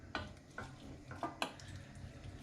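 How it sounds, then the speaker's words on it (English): Homemade sweet chili sauce with dried and fresh chilies is stirred in a pan, giving four distinct scraping, clinking strokes of a utensil against the pan, quiet and close with a low sizzle underneath and no talk. "Now mix it"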